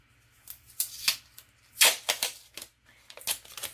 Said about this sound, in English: I'm just going to get some masking tape